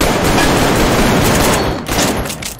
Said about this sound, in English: Oh, you're shooting with me?